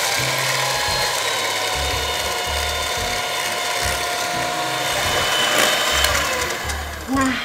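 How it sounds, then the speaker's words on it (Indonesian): An electric hand mixer whirs loudly and steadily up close, its motor pitch wavering as it works through the mixture before winding down at the end. "Makanya ini aku mixer bentar ya."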